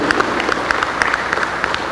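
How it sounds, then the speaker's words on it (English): An audience claps steadily at a formal launch ceremony for an avionics trainee engineer programme in Trinidad and Tobago: a dense, even patter of many hands at moderate loudness, with a few sharper claps standing out, and no voices. "I ask you to also give her a tremendous round of applause"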